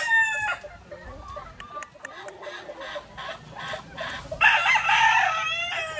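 Texas Asil rooster on a farm crowing in repeated harmonic calls with clucking between them, mixed with other fowl and a louder burst of crowing toward the end.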